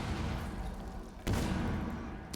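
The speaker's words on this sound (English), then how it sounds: "TSM hears explosions all around them" Distant explosions in an esports match on the Theme Park map thump through a dense, continuous rumble, with two sharper blasts standing out near the middle and at the end.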